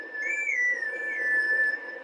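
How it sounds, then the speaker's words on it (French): A clear, sustained melodic whistle comes from a grass plant blown by the character in the Zelda Twilight Princess video game, with a gently wavering pitch played cleanly over a soft background hum. "je cueille une plante, et on siffle avec"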